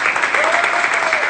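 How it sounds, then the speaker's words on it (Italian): Applause from an audience for the students of Accademia Intrecci, dense and steady throughout at close range, with a faint voice threaded beneath the clapping. "applauso mi potete fare."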